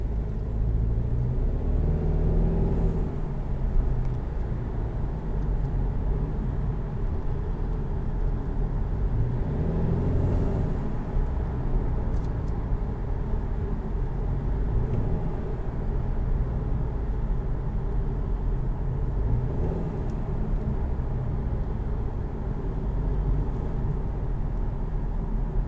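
A 2020 Subaru Legacy cruising on the road, heard from inside the cabin as a steady low engine and road rumble with continuous tyre noise, no talking.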